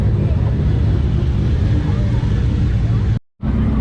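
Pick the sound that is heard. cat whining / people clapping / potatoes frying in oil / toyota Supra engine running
toyota Supra engine running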